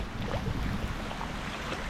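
A vehicle pushes through deep floodwater on a road, with continuous rushing, sloshing water and wind noise that stay steady and fairly loud throughout.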